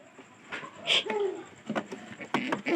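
A female pigeon calls nearby in soft, throaty coos repeated in short bursts, with brief rustling and other faint sounds between the calls.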